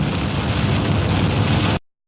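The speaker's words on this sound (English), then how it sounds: "That's rain." Steady rain falls outdoors during a fishing trip, a dense continuous hiss and patter at close range for most of the clip, then it cuts off abruptly into silence near the end.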